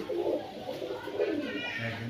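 A pair of light-coloured maxi racer pigeons coo in soft, repeated rising-and-falling calls close by, while someone talks over them.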